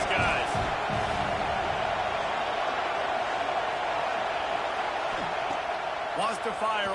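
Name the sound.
football stadium crowd noise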